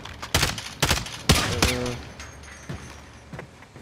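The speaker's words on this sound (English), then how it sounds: "Look, he's trying to shoot at us." Gunfire in Call of Duty: Modern Warfare cracks out in three sharp, punchy bursts early on, followed by fainter scattered shots trailing off, with no voices over it.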